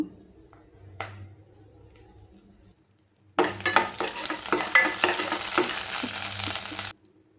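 Chana dal, mustard seeds, urad dal, cumin and curry leaves hitting hot oil. After quiet kitchen ticks, a loud, close crackling sizzle bursts in and spits steadily for several seconds before cutting off.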